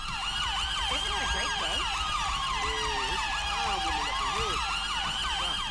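A wailing ambulance siren in the video game GTA V, set in London, sweeps up and down repeatedly, loud and continuous, with overlapping siren tones and a low rumble of traffic beneath.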